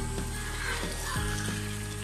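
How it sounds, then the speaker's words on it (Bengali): Fish liver frying in oil while being stirred in a pan, a continuous close sizzle with soft scraping strokes of the spatula throughout the short stretch. "আমি একদম ভালোভাবে নেড়ে চেড়ে রান্না করে নিচ্ছি পুরোপুরি তেলটা হওয়া পর্যন্ত"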